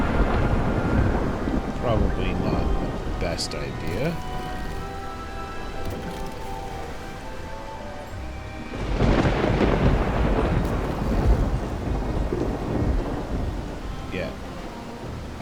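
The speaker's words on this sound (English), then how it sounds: "set sail right in the middle of the storm." Thunderstorm at sea in Bannerlord WarSails, with rolling thunder booming twice, loud and close, over constant rain and wind. Someone speaks briefly.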